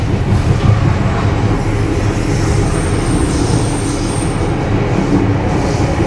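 A train on the Bogor–Sukabumi line runs straight through a station on double track without stopping. Steady, loud rolling rumble with rail clatter and a faint high wheel squeal stays continuous throughout.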